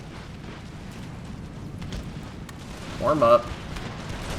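Artillery fire in Empire: Total War rumbles as deep, muffled booms under a low battle din, with a brief voice cutting in partway through.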